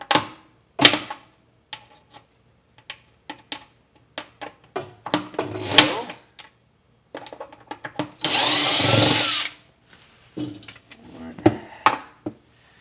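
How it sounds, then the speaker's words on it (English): A cordless drill with built-in lights whirs for about a second while backing screws out of a kitchen trash can slide-out, surrounded by sparse clicks, knocks and handling clatter. "It's nice having a drill like this that has lights built into it. Four screws out of the way."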